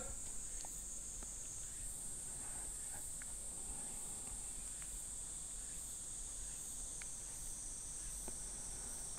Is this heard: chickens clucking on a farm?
no